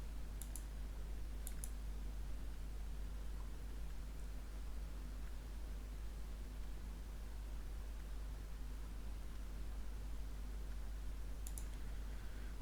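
Computer mouse clicks during a Windows software installation: a couple of quick, faint double clicks near the start and another toward the end, sharp and close against a steady low hum and hiss.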